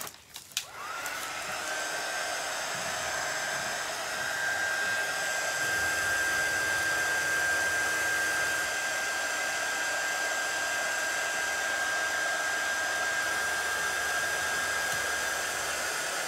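A hair dryer blows continuously on freshly painted crackle paste, a steady loud whir with a high whine, running alone after a brief start-up.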